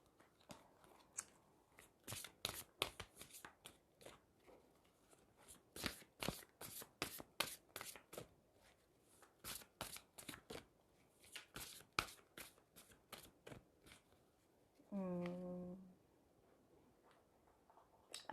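Druid tarot cards being shuffled close up, quiet crisp flicks and riffles in an irregular run of short bursts, with a brief voiced sound near the end.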